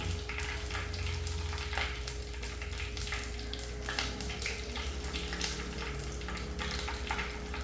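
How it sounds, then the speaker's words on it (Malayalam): Mustard and fenugreek seeds frying in hot coconut oil in a pan for a sardine curry, a steady close sizzle with faint crackles and a low background hum, no talk. "കുറച്ച് കടുക്, ഉലുവ, കടുക് ഒന്നിട്ട് കൊടുക്കുക"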